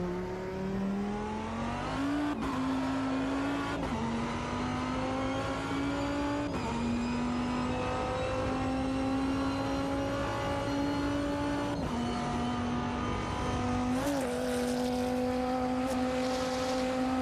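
Race car engine heard from the cockpit in a racing sim video game, a steady loud drone that holds high revs with several quick gear shifts dropping and rising the pitch throughout.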